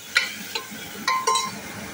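Onions fry in a pan with a low steady sizzle while a utensil stirs them, giving four sharp metallic clinks against the pan at uneven intervals.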